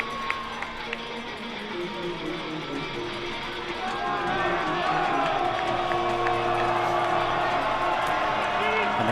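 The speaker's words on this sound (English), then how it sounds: "And the crowd that's here making some noise." High school football crowd at Desert Hills at Green Canyon, cheering and making noise that swells louder partway through, under a play-by-play announcer's ongoing commentary.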